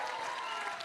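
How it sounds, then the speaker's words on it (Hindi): Audience clapping at a film trailer launch event, a brief dense patter of many hands heard at a moderate distance without pause. "ताली बजाओ इन लोगों के लिए एक बार, दोनों के लिए।"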